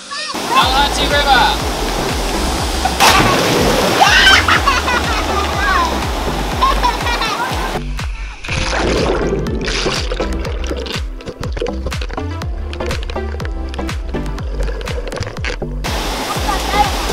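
River water on the Old Telegraph Track in the Cape York bush, heard from a camper trailer trip. The water rushes and splashes steadily and loudly, with voices talking over it.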